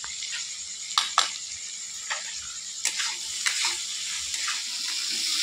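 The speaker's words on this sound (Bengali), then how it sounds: "সব সবজিগুলো ভালো করে ভেজে নিয়েছি।" Mixed vegetables frying with chili, black pepper and coriander powder for pasta, a continuous bright sizzle with intermittent clinks and scrapes of a spatula stirring the pan, close and steady, without talking.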